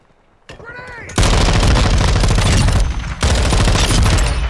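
Dense automatic gunfire in Call of Duty multiplayer on the Himmelmatt Expo map, loud rapid bursts that run almost continuously after a brief quieter lead-in, with a short gap near the end.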